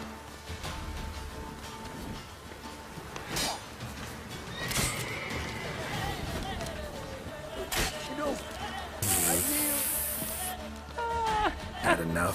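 Horse whinnying in The Witcher 3 game, a few neighs and snorts with hoof clatter mixed among game sound effects, with someone talking over parts of it.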